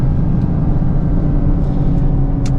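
A 2025 Toyota GR Corolla's engine revving hard toward redline from inside the cabin, a loud, dense low droning roar held steady with a few faint clicks and a brief shift blip near the end.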